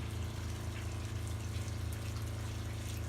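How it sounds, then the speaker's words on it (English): An RV fresh water pump draws water out of the tanks while a drain hose hangs open, giving a steady low motor hum with a faint rushing of water, constant and moderately quiet, with no voices. "water's freely able to be pumped out of the tanks."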